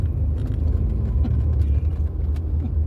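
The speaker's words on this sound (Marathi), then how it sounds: "एक गाडी पास व्हायची" A car passes along a road through green countryside at Mahabaleshwar, a steady low engine and tyre rumble holding throughout with no speech.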